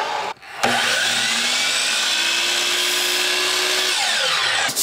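A miter saw cuts reclaimed wood for a rustic picture frame, with a brief click before the motor spins up to a loud, steady whine through the cut, then winds down at the end.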